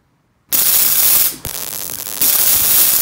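An induction coil of an early spark transmitter crackles into a harsh, buzzing stream of sparks after brief silence, loud and continuous with a short dip before resuming.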